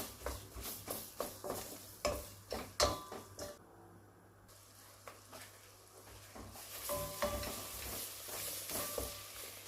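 Chopped onions sautéing with toasted flour in a soup pot, a soft sizzle under repeated spoon scrapes and stirring knocks, close and fairly quiet, with a brief lull midway.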